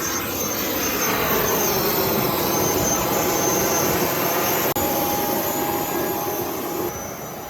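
A private jet in the Congo sounds as a steady, loud jet engine roar with broadband rush and a faint whine, continuous throughout and dipping slightly near the end.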